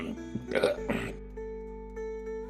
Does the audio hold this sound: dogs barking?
no